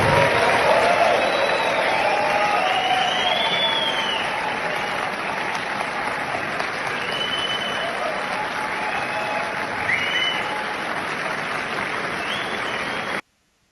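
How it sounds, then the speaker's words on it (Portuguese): Audience applauding a Brazilian government minister, a sustained broad wash of clapping that starts loud and settles to a steady level, with a few faint voices in the crowd, then stops abruptly. "Uma salva de palmas."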